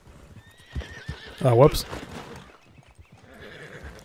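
A horse in Red Dead Redemption 2 lets out a loud, quavering whinny amid hoofbeats, with a person talking briefly just before.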